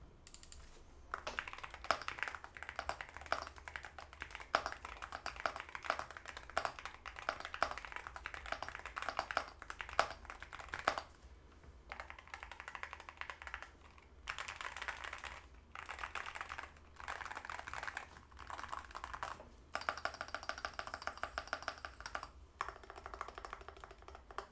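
Continuous typing on a CIDOO C75 HE Hall Effect magnetic mechanical keyboard, rapid clacky keystrokes in bursts with brief pauses, close and clear.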